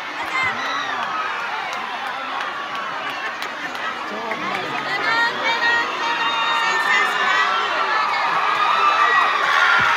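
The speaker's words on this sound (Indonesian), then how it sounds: "teriakan dari supporter pada kali ini" Football supporters roar and cheer in a stadium during a Bupati Cup 2025 final, a loud, dense, sustained crowd din of shouts and whoops that swells toward the end, with a commentator talking over it.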